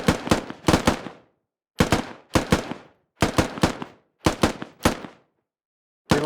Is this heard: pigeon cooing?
no